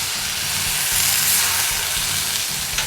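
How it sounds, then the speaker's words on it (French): Loud, steady sizzle and hiss as dry white wine hits a hot pan of onion and spices, a close continuous frying roar with a faint low hum underneath and no talking. "On déglace au vin blanc."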